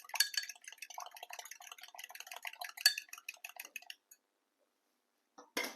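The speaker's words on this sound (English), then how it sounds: "Whisk that to mix." An egg being whisked with cold water in a bowl for pie crust dough, rapid close metallic clinking and tapping strokes that run for about four seconds, then stop, with a brief clink at the end.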